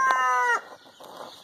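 Barred Rock rooster crowing once nearby, a loud strained call held for about half a second and then cut off, followed by faint background noise and no speech.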